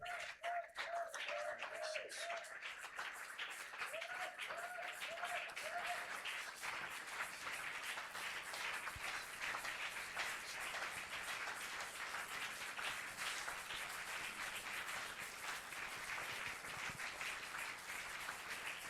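Congregation at an Easter church service applauding steadily in a large space, a dense continuous wash of clapping throughout, with brief sung or chanted voices near the start.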